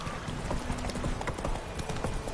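Roach the horse trotting in The Witcher video game, a brisk, steady clip-clop of hooves at close range, repeating evenly over a muffled, busy game background.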